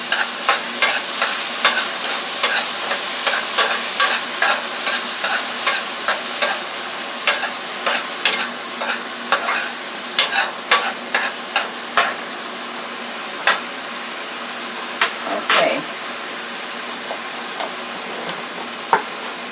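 Stirring three heaping tablespoons of thickening paste into a pot of salmon stew with onions, a steady series of scraping, clicking spoon strokes under a soft background sizzle, with no talking.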